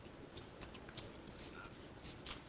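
Scissors snip through a paper tree cut from Stampin' Up Sweet Days of Autumn paper, a few quiet, separate crisp cuts spread out in an otherwise hushed room.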